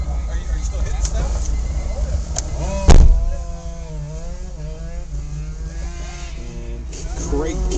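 A Mazda Miata races through an autocross course, its engine droning and revving under a commentator's voice, with a sharp thump partway through and the engine note rising and falling as it pushes on.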